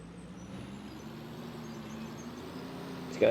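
Air brake hiss from a farm truck, a steady broadband rush under a low engine rumble, ending in a sharper loud burst at the very end.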